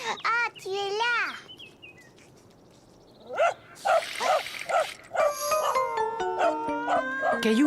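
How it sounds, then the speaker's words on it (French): A cartoon dog barks a few times in quick bursts partway through, alongside squeaky cartoon effects, whistle-like tones and bright musical sounds. "Caillou avait un peu peur du chien"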